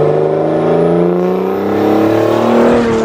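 An aluminium-bodied Grumman van with a swapped OM606 diesel engine cruising along, a loud steady engine drone from inside, the pitch rising slowly as it pulls.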